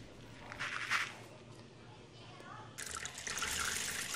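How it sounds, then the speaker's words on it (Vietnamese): Black beans being rinsed in a bowl of water, with soft splashing and trickling that builds louder toward the end, close by and without talk. "Rồi tiếp theo thì mình sẽ đi rửa cái đậu này cho nó thật là sạch."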